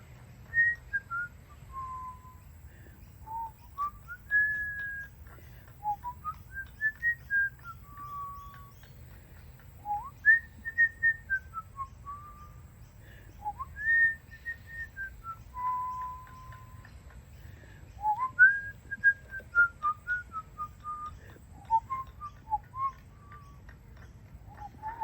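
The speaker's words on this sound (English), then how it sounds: "and began whistling." A person whistles a slow, wandering tune alone for about 25 seconds, a clear steady series of rising and falling phrases with short pauses between them and a low hum underneath.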